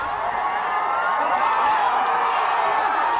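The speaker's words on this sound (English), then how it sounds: "A huge cheer, then singing as the decision reaches the crowd out front" A large crowd gathered outside the US Supreme Court cheers at the ruling legalizing same-sex marriage, a dense, sustained roar with scattered whoops and shouts, loud and steady throughout.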